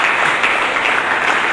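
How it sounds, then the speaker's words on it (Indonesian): Louder applause from a church congregation at a GBI Harmoni service, dense continuous clapping from many people filling the whole moment evenly. "Mari kita berikan tepuk tangan yang lebih meriah."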